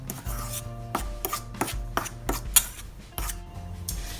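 Seasoned flour with black pepper gets mixed in a bowl for chilli fried squid, heard as a run of regular scraping and knocking strokes, close and fairly loud, with short pauses between them.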